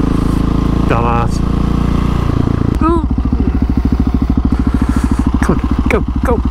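Motorcycle engine revving hard and accelerating through gears on a wet day, loud and close with a rapid pulsing exhaust beat, rising pitch sweeps between shifts, and a rider's voice talking over it.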